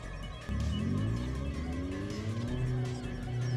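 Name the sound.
powerful car engine roaring in the video game Steins;Gate 0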